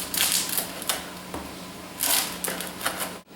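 Knife slicing fresh-baked local French bread into thin slivers for portabella bruschetta, a series of crisp sawing rasps at a steady rhythm, close and clear with no talk.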